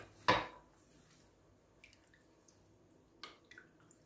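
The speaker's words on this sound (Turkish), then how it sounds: "Şimdi bunları güzelce karıştıralım." Roasted red pepper pickle stirred with parsley, vinegar and oil in a bowl, one sharp knock of a utensil followed by faint wet scrapes and a few soft clinks, quiet and close with no speech.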